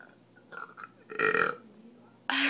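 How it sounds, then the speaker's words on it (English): Someone burps while singing, with a few short throaty belches heard close and loud, separated by brief quiet gaps and a burst of vocal noise. "I can't burp today, guys."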